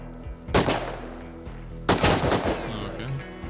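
Gunfire in the survival video game Rust: two loud bursts of rapid shots, one near the half-second mark and another around two seconds, each trailing off into quieter reverberant shots.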